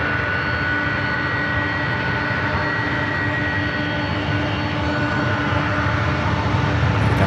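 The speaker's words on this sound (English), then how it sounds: "Got another Delta 767 heading to the 1s." A Delta 767 jet airliner at San Francisco airport, a steady loud engine roar and whine that holds throughout without a break.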